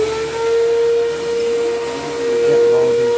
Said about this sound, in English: Best part about having carpet is cleaning it with your vacuum cleaner.